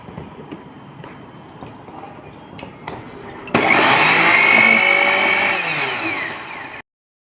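A kitchen mixer grinder grinding sesame seeds, starting abruptly after quiet handling noises into a loud, harsh whirring roar that runs for about three seconds, then cuts off.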